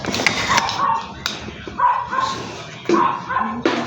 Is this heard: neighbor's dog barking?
yes